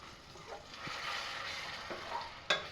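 Curry being stirred in a pan as a quiet, soft sizzle with a few faint scrapes and one sharper tap near the end, close but low in level, with no voices.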